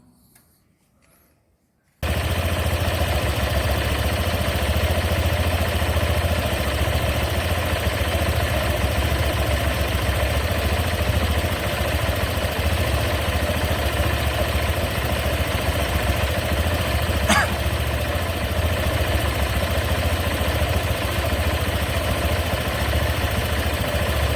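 A scooter engine fires up after a short quiet moment and settles into a loud, steady idle that runs unbroken close by, with no talking.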